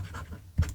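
Brass pocket fountain pen with an extra fine nib scratching briefly across paper, a faint close stroke ending in a slightly louder touch.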